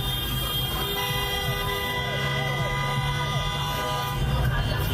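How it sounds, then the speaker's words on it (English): Dense street traffic at a protest in Los Angeles, with horns honking repeatedly over a constant loud roar of engines and crowd noise, sustained and near throughout. "I can take the honking."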